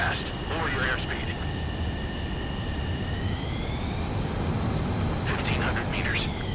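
Fighter jet engine in Ace Combat 7 on landing approach, a steady loud roar with a rising and falling whine throughout, with brief radio-style voice bursts over it.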